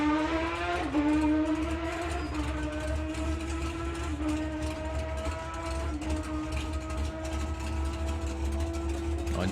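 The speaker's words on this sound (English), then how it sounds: "You're going to hear Nick car go through the gears." A junior dragster engine screams as it revs up, drops, and climbs again through the gears several times in quick succession at Santa Pod Raceway, loud and close, with no talking.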